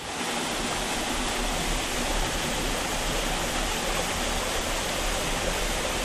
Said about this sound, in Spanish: Los fuertes desniveles de esta zona provocan numerosas cascadas, casi una decena, que hace el arroyo de Huanga antes de entrar en las agitadas aguas del río Trubia.